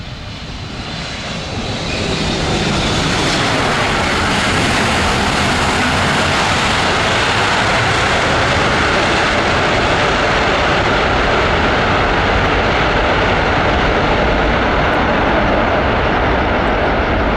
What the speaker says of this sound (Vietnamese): bây giờ là những chiếc Boeing 737-300ER của EVA Air đang bước vào hạ cánh